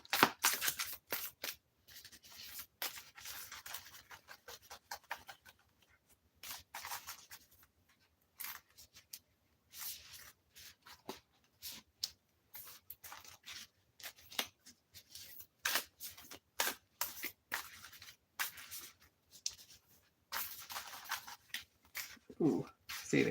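A deck of Magic: The Gathering cards is shuffled by hand, with repeated crisp riffling bursts and flicks in irregular runs, close and fairly quiet, separated by brief pauses.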